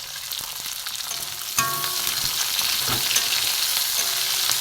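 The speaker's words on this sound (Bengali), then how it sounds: "পেঁয়াজ টমেটো একটু ভাজা হোক," Chopped onion and tomato fry in a pan with a steady hissing sizzle, which jumps up after a sharp stir and stays louder, with occasional spatula scrapes.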